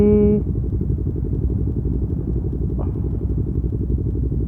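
A low, rumbling motorcycle engine idles and churns steadily among a group of touring motorcycles, with a brief higher tone at the start and a faint chirp midway.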